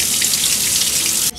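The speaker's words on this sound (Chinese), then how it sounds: "先把马铃薯洗一洗" Potatoes being rinsed under running tap water in a kitchen sink, a steady close broadband splashing that fills the moment and stops abruptly at the end.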